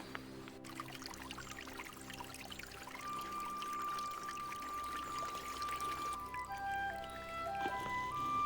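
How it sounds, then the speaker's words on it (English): A small forest spring trickles into a lake with a soft, steady flow that stays faint and continuous, while thin bird calls sound now and then in the outdoor setting. "This is where the water comes into the lake from the forest through this little spring."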